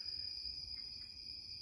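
Natal forest tree frogs calling from a distance in forest at night, a steady high buzzing chorus that stays faint and continuous throughout, with no voices.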